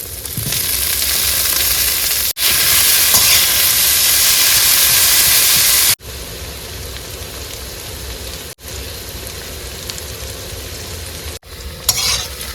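Potatoes frying in a pan alongside fish give a loud, dense sizzle and hiss close by, with brief breaks and drops in level as the pan is stirred and the fry settles.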